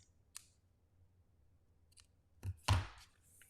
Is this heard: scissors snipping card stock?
yes